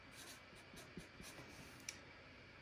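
Pen or marker writing out a physics calculation, a faint close scratching with short strokes and a few light taps, quiet and without talk.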